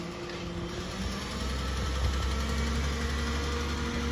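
Garbage truck 28 idling nearby, a steady low engine rumble with a faint vibrating knock running through the whole stretch, slightly louder after the first second, with no voices.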